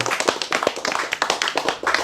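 Hands clap rapidly and unevenly for a couple of seconds, close by, with no talking.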